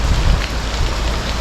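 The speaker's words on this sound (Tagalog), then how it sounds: "Yung medyo malakas po uli yung ulan" Heavy rain pours down near a river, a dense, loud and steady hiss of drops beating on surfaces with no voices.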